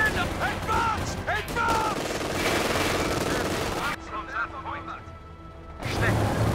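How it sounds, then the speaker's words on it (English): Heavy machine gun fire erupts in a Company of Heroes battle, with rapid bursts of gunfire and impacts mixed with shouting soldier voices, loud and dense before a brief dip in level. "Heavy machine gun!"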